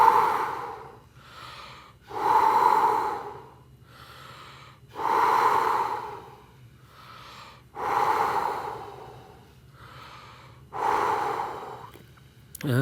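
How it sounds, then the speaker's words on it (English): Five breaths in a calm breathing exercise, each a soft airy exhale-like burst about two to three seconds apart, close and clear with steady room hum beneath and no talking. "give us 5 shallow breaths"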